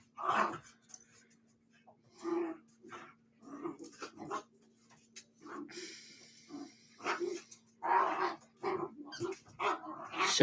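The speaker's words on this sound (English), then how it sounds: "Sorry about my dogs in the background." Several pet dogs bark, yip and growl in playful bursts from another room, fairly faint and intermittent, with no talk over them.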